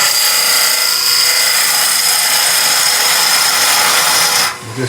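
Wood lathe spinning as a tool cuts a tenon on a turned wooden finial, a loud steady high-pitched whine and scraping hiss close by, easing off just before the end.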